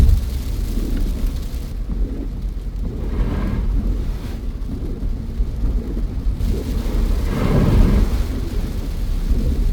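Heavy rain drums on a car moving at about 80 on a highway on the drive from Jim Corbett to Lucknow, making a steady, dense roar of water and road noise with low rumbling swells and no talking.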